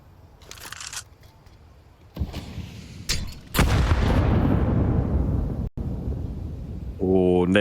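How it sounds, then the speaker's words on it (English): A grenade explodes in Counter-Strike during a professional match on Inferno, a loud booming blast with a long rumbling decay after some earlier thuds, with a commentator talking over the game audio. "Oh, nade does some decent damage."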